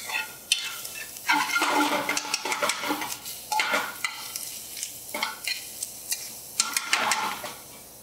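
Food being stirred in a very hot pan for a cashew alfredo with verdolagas and calabacitas, steady sizzling frying broken by repeated scraping and clinking strokes of a utensil, close by with no talk.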